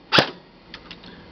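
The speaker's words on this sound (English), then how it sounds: "This is semi." A King Arms airsoft gun with an Infinite Torque motor, powered by an 11.1 V LiPo, fires one sharp semi-automatic shot. Several faint mechanical clicks follow close by.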